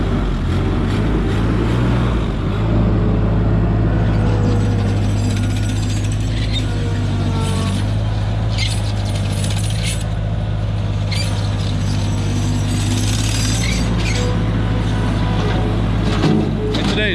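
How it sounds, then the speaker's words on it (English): A small skid loader runs with a steady engine drone and mechanical clatter, loud and close throughout, with brief background voices. "Weston buys the smallest skid loader"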